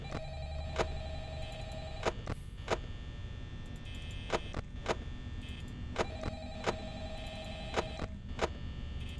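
A telephone rings in the Five Nights at Freddy's horror game, its bell sounding in regular repeated bursts across the whole stretch, clear and steady over a low hum with no voices.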